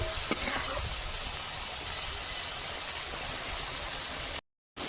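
Spice paste frying and being stirred in a pan, a steady close sizzle that hisses evenly throughout, with a brief scrape early on and a short silent gap near the end.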